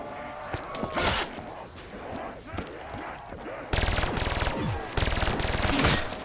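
Hip-fired automatic gunfire in Call of Duty Black Ops 3 zombies mode, loud rapid bursts rattling against a busy game soundscape, with sustained dense volleys toward the end.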